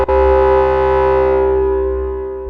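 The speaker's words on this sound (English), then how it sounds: "Sounds really gnarly if we use the overdrive on the VCF." A harsh, buzzy Korg prologue synthesizer tone with the filter overdrive engaged holds one sustained note for a couple of seconds, gritty and distorted, slowly fading at the end.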